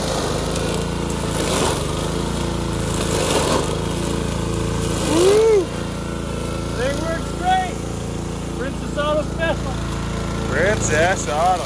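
A homemade weed whacker engine runs with a steady, buzzing drone at close range for the whole stretch, while voices and a few excited shouts rise over it.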